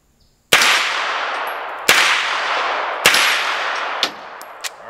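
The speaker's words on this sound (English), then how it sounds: "Fire a couple rounds." An MP5 fires several separate rounds outdoors, each a loud, sharp crack with a long ringing tail. Four main shots come at roughly one-second intervals, followed by a couple of fainter clicks.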